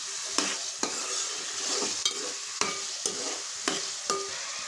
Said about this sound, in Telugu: బంగాళదుంపలు వేసేసానంటే ఒకసారి కలుపుకున్నాం.